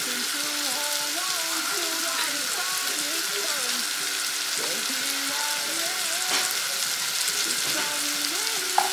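Garlic and a seasoning cube fry and get stirred in a pan, making a continuous, even sizzle with soft scraping, over faint wavering tonal sounds in the background.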